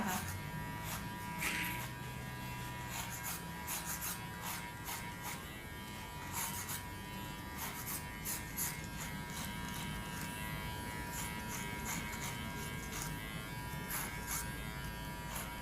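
Electric hair clippers buzz steadily up close while cutting a low fade haircut, a continuous hum broken by short clicking and cutting bursts as the blade moves through hair.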